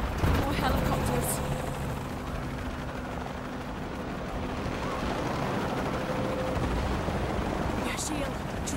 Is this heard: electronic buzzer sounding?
no